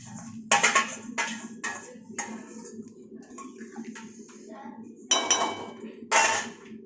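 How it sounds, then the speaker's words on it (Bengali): Cauliflower pieces tipped into a pot of simmering fish curry with boiled potatoes, cooked without onion or garlic: several loud clattering, clinking bursts of pot and utensil contact over a steady low bubbling, with quieter gaps between. "এবার আমি ফুলকপিটা দিয়ে দিচ্ছি।"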